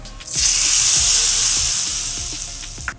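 Hot oil tempering with chilli powder sizzles as it goes into dhaba-style dal fry, a loud close burst of hissing that swells quickly, then slowly fades over a few seconds.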